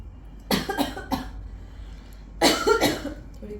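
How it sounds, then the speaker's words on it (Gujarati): A person with poor health coughs in two bursts, three sharp, close coughs followed after a pause by a second rough cluster, with quiet room noise between. "થોડી ઉધરસ ખાવાની"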